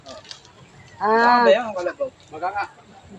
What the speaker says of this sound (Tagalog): ito na yung baka?